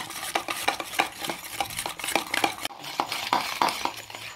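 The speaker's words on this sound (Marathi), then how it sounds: "ही डाळ अशी पूर्ण हलकी होस तर आपल्याला फेटायची आहे" Urad dal batter is beaten by hand in a bowl, giving a quick, steady run of soft slapping and clinking strokes, close and fairly loud, with no talking.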